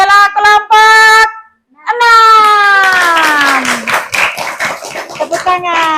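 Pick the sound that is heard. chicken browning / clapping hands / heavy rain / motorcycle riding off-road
clapping hands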